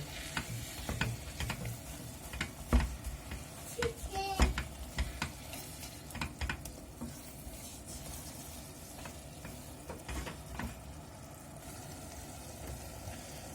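Minced meat stirred and fried in a pan for Turkish pide: a faint, steady sizzle broken by scattered clicks and scrapes of a utensil against the pan, with no one talking.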